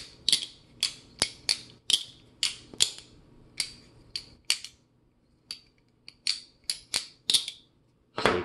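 A balisong butterfly knife with zen pins flips through basic moves, giving a rapid series of sharp metallic clacks and latch clicks in irregular bursts, close up with short pauses between.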